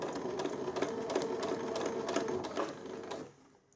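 A sewing machine stitches fabric at a hem with a rapid, steady mechanical whir, close and moderately quiet, then stops near the end.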